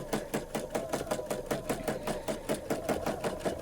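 A sewing machine runs steadily while quilting fabric along the edge of a box frame, its needle ticking in a fast, even rhythm close by, with no talking.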